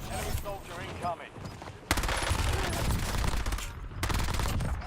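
Dense bursts of automatic gunfire and rapid shots in Call of Duty: Warzone, loud and continuous with sharp onsets, mixed with game voice callouts.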